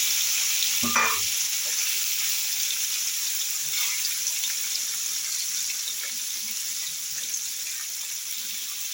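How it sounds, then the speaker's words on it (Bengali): Paneer pieces fry lightly in oil in a pan, giving a steady, bright sizzle that holds evenly throughout, with one brief clack of a utensil near the start. "কেটে আমি হালকা করে ভাজবো, যেহেতু এটা দুধ দিয়ে বানাবো পনিরটা হালকা করে ভাজবো"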